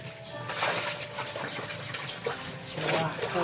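Water pours and splashes into a container for Downy fabric softener during hand laundry, a steady rushing flow that swells near the start and again toward the end, close and moderately loud.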